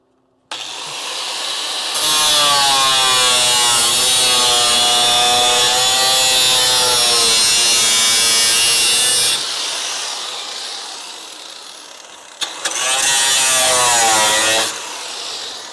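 Power grinder working a Dodge Charger crew cab's metal body near a mouse nest, a loud steady high-pitched whine that runs for several seconds, stops, then starts again briefly.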